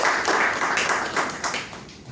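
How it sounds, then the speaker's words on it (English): Audience applause at a Toastmasters club meeting, a steady wash of many hands clapping close by, gradually fading over about two seconds. "Please give a round of applause to Toastmasters."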